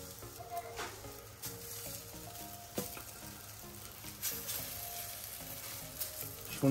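French toast fries in plenty of butter in a pan, a soft, continuous sizzle with faint crackles and occasional clinks of a utensil, heard fairly quietly with no talk in the stretch.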